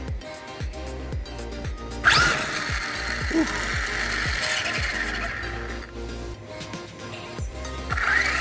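A Traxxas RC car running on a nickel battery powers up for the first time, giving a rising electric motor whine after a series of rhythmic clicks, close and fairly loud, with brief mechanical ticks around it.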